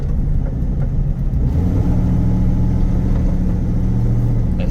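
The 6.2L LS3 V8 engine of a 2015 Local Motors Rally Fighter runs steadily up close, a deep, throaty rumble with low harmonic drone and slight shifts in pitch, loud and continuous with no talking.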